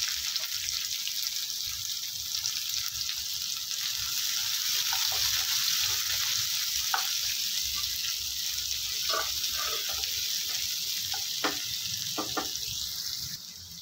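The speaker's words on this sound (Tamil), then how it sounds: "கொஞ்சம் கண்ணாடி பதம் வர வரைக்கும் வதக்கி விட்டுக்கோங்க." Steady sizzling of chopped onion frying in oil, with faint stirring clicks and scrapes throughout, close and continuous, no talking.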